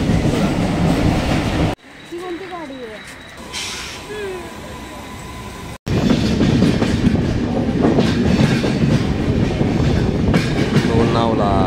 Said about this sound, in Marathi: ह्या ट्रेनने आम्ही प्रवास पुढे आम्ही करतो